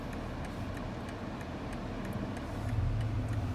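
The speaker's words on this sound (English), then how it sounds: "the car will manually go and drive in reverse as it needs to" A 2019 BMW X5 creeps in reverse during automatic parking, giving a low, steady drivetrain hum that swells slightly near the end, with faint ticking over it and no voices.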